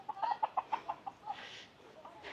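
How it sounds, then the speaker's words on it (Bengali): Chickens in a village near Marrakesh, Morocco, give a quick run of rhythmic, fairly faint clucks, then fall quieter amid soft outdoor ambience. "এই পাশে দেখা যাচ্ছে মুরগি পালতেছে ওরা"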